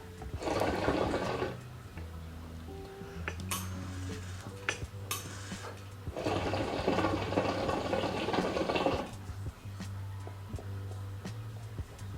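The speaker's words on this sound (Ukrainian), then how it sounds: "Робимо першу тягу." A Yahya S200 hookah drawn on, water bubbling in the base in two long gurgling bursts with a lower rumbling between them, close and fairly loud.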